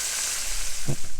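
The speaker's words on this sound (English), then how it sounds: "We've got a grease good and hot. I want to add a little bit of flour and get the flour starting to burn a little bit." Flour frying in hot grease for Appalachian hamburger gravy, a steady close hiss of sizzling with soft stirring scrapes near the end.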